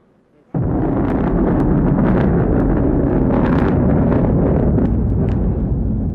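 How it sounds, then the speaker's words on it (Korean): A Japanese H2A rocket launches after silence with a sudden loud roar that becomes a sustained, heavy rumbling blast, crackling throughout, heard from a distance with no voices over it. "일본도 위성 발사체인 H2A 로켓을 발사했다"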